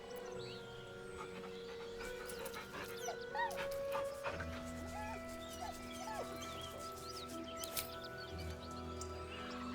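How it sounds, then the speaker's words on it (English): A dog whimpers in Baldur's Gate 3, giving repeated soft high whines and yips spread across a steady layered musical drone, faint and intermittent rather than loud. "The dog whimpers nervously, as if to urge you on."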